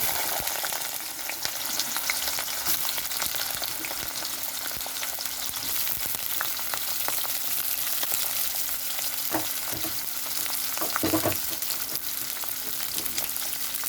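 Cauliflower florets frying in hot mustard oil in a kadai, a steady bright sizzle throughout with a few sharper crackles and stirring knocks, no voices.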